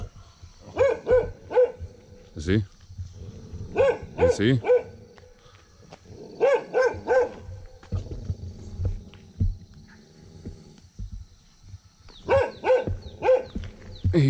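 Dogs at an eco village in Ha Giang, Vietnam, bark repeatedly in loud, close bursts of several yaps each, separated by short pauses, while someone talks over and between them.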